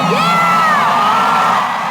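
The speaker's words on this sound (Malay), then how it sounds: "Tindakannya itu menerima sorakan ramai." Crowd at a concert on a tour in America cheers loudly and continuously, with whoops and high shouts rising over a dense wall of voices.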